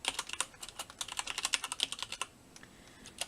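Rapid, uneven clicks of fingers typing on a computer keyboard, close and clear, tapping out a short phrase in bursts before a brief pause and a few final keystrokes.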